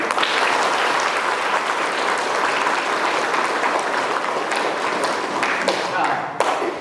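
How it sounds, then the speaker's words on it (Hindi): An audience at a community gathering welcoming Bishop Theodore breaks into sustained applause, a dense, even wash of clapping close by that continues throughout, with faint voices mixed in. "तालियां बजाएं"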